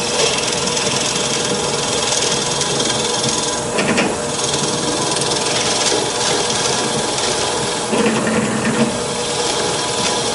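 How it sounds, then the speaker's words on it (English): A 3/4 inch Forstner drill bit bores a mortise into a wooden boat rudder, a continuous rasping, grinding scrape close by, with a few heavier bursts as it pushes through. "Now I just need to create a mortise in the rudder. Have a 3/4 inch drill bit,"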